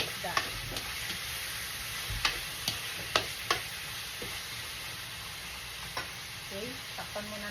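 Shrimp and salmon head sizzle softly in a pot for sinigang, a steady low frying hiss with a few sharp clinks of stirring.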